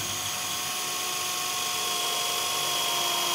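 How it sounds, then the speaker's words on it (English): Power drill whirs steadily into wood on a cabin house build, a high continuous motor whine held at constant pitch for a few seconds, close and alone without speech. "We're going with the drill first."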